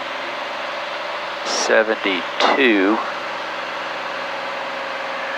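A light aircraft piston engine pulled back to cruise power drones steadily in the cabin, a constant mid-pitched hum with a faint higher whine, while a voice briefly speaks over it.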